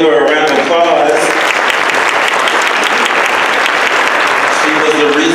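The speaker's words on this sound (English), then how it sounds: "Everyone give her a round of applause." An audience at a Christmas concert claps loudly and continuously for several seconds, a dense wash of applause with a few cheers.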